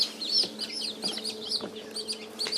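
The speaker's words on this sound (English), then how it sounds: "This is 4 chickens that are 2 days old." Four two-day-old chicks peep in a brooder under a heat lamp and heat pad, giving close, rapid, high-pitched chirps in overlapping bursts.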